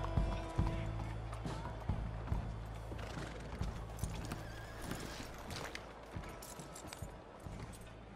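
Horse hooves clip-clop at a steady walking pace in a western video game, with a horse whinnying and soft ambient game sounds underneath, moderately quiet.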